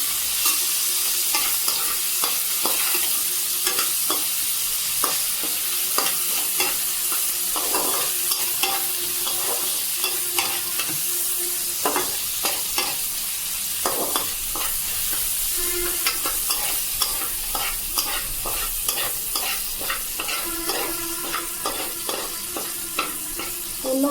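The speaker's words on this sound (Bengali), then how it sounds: "এটা আমি দিয়ে দিলাম ভাজতে এটা আমি ভেজে নেবো ভালো করে" Soaked peas frying in a large wok, with a constant close sizzle broken by frequent spatula scrapes and stirring knocks, no voices.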